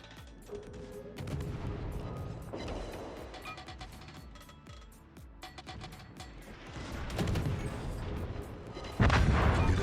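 Naval gunfire aboard the HMCS Haida, a Tier VII Commonwealth destroyer in World of Warships, with repeated booming salvos and crashing impacts over a steady engine and sea rumble, building to a loud blast at the end.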